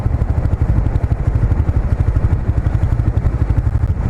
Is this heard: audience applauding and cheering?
no